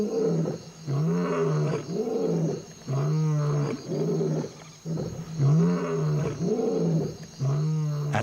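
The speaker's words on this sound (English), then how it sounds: "a lion's roar. This thunderous greeting to the dawn has the same decibels as a small plane taking off." A lion's deep, thunderous roars at dawn on the African savanna, a series of loud, rhythmic moaning grunts repeating roughly every second, close and alone with no voices.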